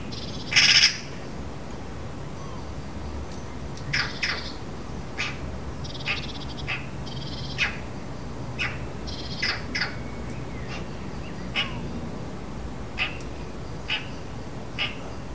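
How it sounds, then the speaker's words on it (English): A magpie gives harsh, rattling chatter calls: one loud burst near the start, then a scattered series of shorter, fainter squawks at irregular intervals over a quiet outdoor background. "It might have something to do with that magpie."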